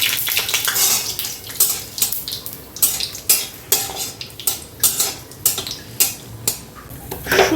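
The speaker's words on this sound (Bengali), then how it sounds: "একটু কালো জিরের ফোড়ন দিলাম" Nigella seeds and dry chillies temper in hot oil in a pan while a utensil scrapes and clinks against the metal in a quick, regular stirring rhythm over a continuous sizzle.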